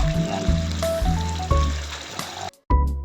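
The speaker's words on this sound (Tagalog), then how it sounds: "Bago lagyan natin ito ng tubig" Water poured from a container into a simmering pan of sardines cooked with malunggay, a splashing, filling pour with gurgling and a faint sizzle that briefly stops, then resumes.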